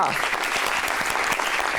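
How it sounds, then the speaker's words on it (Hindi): A television studio audience applauds a talk-show guest, giving a short burst of dense, loud clapping that fills the whole moment. "सबा कमर और इनके लिए तालियां।"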